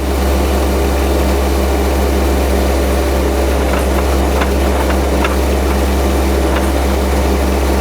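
A trencher's digging chain engages and works down into the ground while cutting a water line trench, a loud, steady heavy engine drone with grinding chain noise throughout and faint scattered ticks on top.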